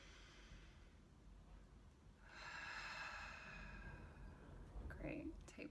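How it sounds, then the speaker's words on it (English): One deliberate, exaggerated loud breath taken alone at home during an improv warm-up, a long, airy, close exhale that swells mid-clip after a quiet start. "Take one more super loud breath just on your own"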